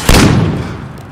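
Gunfire in Call of Duty Modern Warfare, a single loud, close blast with a booming tail that fades over about a second, with no voice over it.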